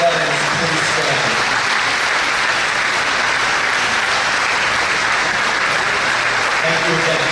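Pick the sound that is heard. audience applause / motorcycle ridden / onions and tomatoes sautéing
audience applause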